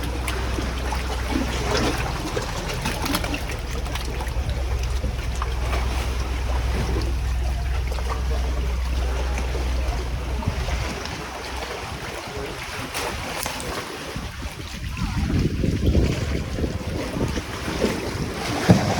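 A boat moves across open sea near El Nido, Palawan, with a steady low engine drone, wind buffeting the microphone and waves splashing against the hull.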